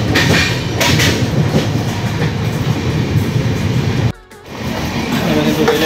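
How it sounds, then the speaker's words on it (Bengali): A Sealdah to New Delhi Rajdhani Express runs through Bardhaman's platform 1 without stopping, with a loud, steady rumble and rattle of rolling stock heard from inside, broken by a brief drop in sound before the roar resumes. "বর্ধমান 1 নম্বর প্ল্যাটফর্ম দিয়ে আমরা থ্রু ক্রস করে বেরিয়ে গেলাম।"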